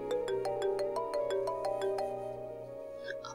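A phone ringtone plays a repeating bright melodic pattern of chiming notes for about two seconds, then fades into a soft tail with faint sounds, fairly quiet and alone without talk.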